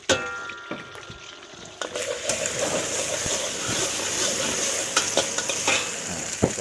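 Continuous loud sizzling of beaten egg frying in a hot wok for nasi goreng, with occasional scraping and clinks of a utensil stirring.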